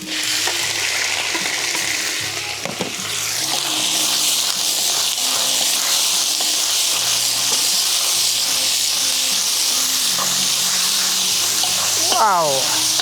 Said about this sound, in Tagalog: Lagay na po natin yung ating manok.